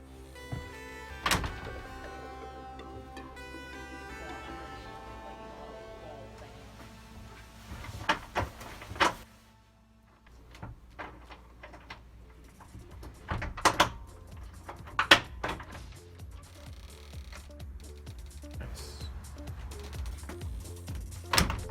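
A storm door is pushed shut and locked, giving several sharp thunks and latch clicks spaced across the span, close and moderately loud, with quieter handling noise and rattles between them and no talking.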